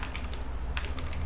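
Commands typed on a computer keyboard, a quick close run of light key clicks in an uneven rhythm, with no speech.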